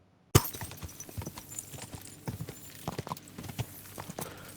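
Horse hooves clip-clop along at a walking pace while riding in Kingdom Come: Deliverance II, an uneven run of close, moderate thuds with nobody talking.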